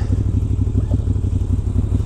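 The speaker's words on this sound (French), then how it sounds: "écouter à nouveau le moteur de ma Gudzi" A Moto Guzzi motorcycle engine runs steadily close by, a deep, even throb with a rapid regular pulse and no voices over it.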